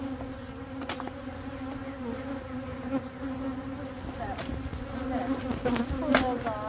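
Honey bees buzz around an open hive, a steady droning hum that stays close, with occasional louder passes of individual bees.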